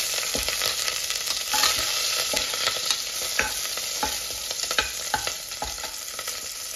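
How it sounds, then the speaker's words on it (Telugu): Green chillies stirred in a hot frying pan for paya soup, a continuous bright sizzle broken by repeated scraping strokes of the spoon, close and steady with no talking. "ఒక 5 to 6 గ్రీన్ చిల్లీ వేసుకున్నామండి. చక్కగా కలుపుకోవాలి."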